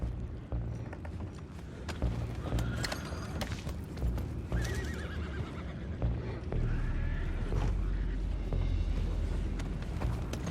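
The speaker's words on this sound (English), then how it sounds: "What about those horses down below?" Horses neigh and whinny over steady hoof clip-clops in Red Dead Redemption 2, with several calls scattered across a busy, loud game soundscape.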